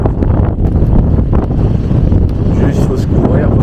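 Strong wind roars through a microphone in a sandstorm in the Moroccan desert near M'Hamid, a loud continuous buffeting rumble with gusty swells and no break.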